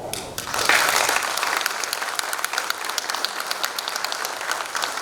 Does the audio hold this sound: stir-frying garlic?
no